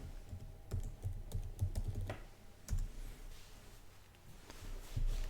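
Soft, irregular key clicks from a computer keyboard as a password is typed into a terminal during an Arch Linux system update, quiet and close with short pauses between keystrokes.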